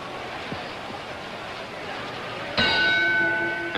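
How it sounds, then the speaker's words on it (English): A boxing ring bell strikes for round 10 and rings on with a bright, sustained metallic tone, cutting through a murmuring crowd background at a Sugar Ray Robinson vs Joey Maxim fight. "And there's the bell, round 10."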